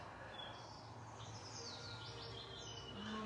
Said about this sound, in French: Les petits oiseaux, vous entendez?